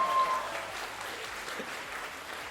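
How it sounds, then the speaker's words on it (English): A crowd at a night show event gives a round of applause, a fairly soft, even patter of many hands that carries on steadily throughout. "So your prize is a big round of applause from the audience."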